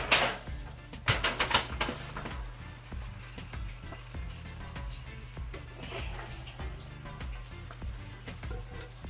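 Curry shrimp scraped and moved from a cooking pot into a baking pan, with several clattering knocks and utensil scrapes near the start, then quieter shuffling against a steady low hum.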